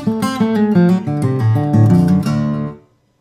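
Acoustic guitar playing a quick bluegrass exercise, a steady run of plucked notes and hammer-ons, clear and close, ending on a ringing chord that fades out.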